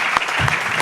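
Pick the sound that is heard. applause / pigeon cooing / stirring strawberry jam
applause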